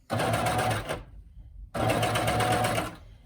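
Coverstitch sewing machine stitching a pair of leggings, running in two loud, steady bursts of rapid mechanical chatter separated by a short pause.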